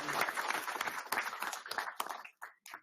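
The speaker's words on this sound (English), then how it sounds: "Let's give her another round of applause and her beautiful mother." Board meeting audience applauding, a fairly faint, uneven patter of claps that breaks into separate bursts toward the end.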